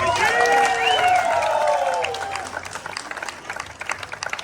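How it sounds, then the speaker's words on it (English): A crowd at the 2022 US Air Force Thunderbirds team introduction claps for Thunderbird 11, the applause starting under some ringing tones and then continuing as a looser, fading patter. "So a huge round of applause for Thunderbird 11."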